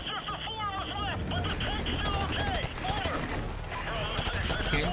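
Rapid gunfire rattles in Call of Duty: Modern Warfare Remastered, with bursts of automatic shots and single cracks over a constant battlefield din, while game characters shout and speak throughout.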